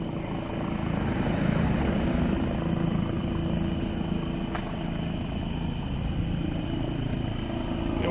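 A police helicopter hovers overhead at a St Paul crime scene, its steady rotor drone and engine rumble continuous and moderately distant, with no one speaking.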